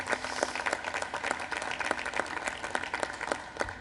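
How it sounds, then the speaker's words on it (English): An audience at a National Space Council meeting applauds the Secretary of Energy. Dense, sustained clapping fills the room at a steady level and tapers slightly toward the end. "Another round of applause for the Secretary of Energy"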